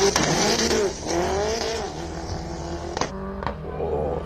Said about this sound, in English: sound like missing a whole bunch of gears from Anton Grenier.